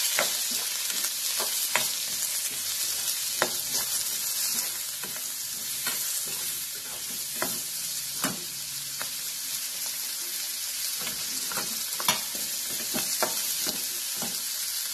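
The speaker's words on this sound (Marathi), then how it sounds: "एक 2 मिनिटं फक्त आपल्याला हलवायचं आहे, जास्त भाजायचं नाही आहे।" Ingredients for pavta usal stirred and roasted in a pan, with a steady frying sizzle and repeated sharp clicks of a spoon against the pan, close and continuous.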